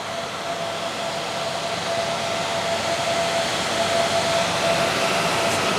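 Six fans on a cryptocurrency mining rig with a Gigabyte 3080 graphics card run at full 100% speed, making a loud, steady broadband whoosh with a faint constant whine, building slightly over time.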